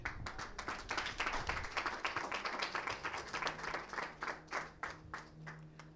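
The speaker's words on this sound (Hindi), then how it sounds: "प्रभु को ताली बजाएं।" A church congregation claps during a Hindi sermon, fairly sparse, uneven hand claps that fall into a loose beat, quiet and somewhat distant, with a faint voice lingering near the end.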